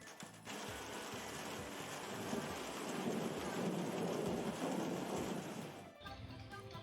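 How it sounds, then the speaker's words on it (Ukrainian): Long, deep rumble of thunder rolling for several seconds over steady rain, swelling then fading, followed by softer rainfall. "Давайте поспостерігаємо за цим неймовірним явищем природи"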